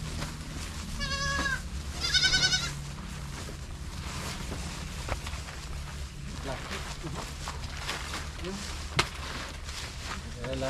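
Goat bleats, high and nasal, sound twice early on over a steady outdoor background on a Philippine farm where an expensive imported goat is kept, with people talking nearby.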